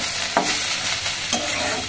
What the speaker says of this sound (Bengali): এবার এই চালটা দিয়ে এটা ভাজবো।